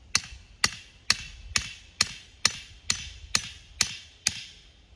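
Hammer blows drive a support post for an electric fence into the ground, ten sharp, evenly spaced strikes about half a second apart, close and clear with no talking.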